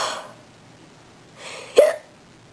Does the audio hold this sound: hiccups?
yes